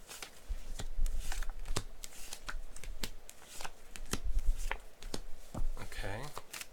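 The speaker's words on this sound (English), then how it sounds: "I'm just going to flip all the cards and then I'm going to pull." Tarot cards are shuffled and flipped close up, with a steady papery riffle punctuated by sharp snapping card slaps, while a low voice and faint background noise sit underneath.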